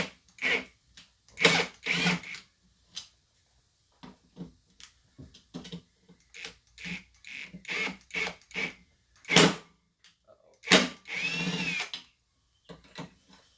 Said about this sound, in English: I'm still getting used to this new impact wrench